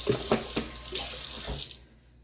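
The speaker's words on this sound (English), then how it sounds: "I'm washing it off in some cold water." Meat for a pot roast is rinsed under a running cold tap, a close, steady splashing gush that stops abruptly near the end.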